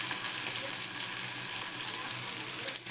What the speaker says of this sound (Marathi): टोमॅटो चांगला परतून घेते. मसाले घालून घेते.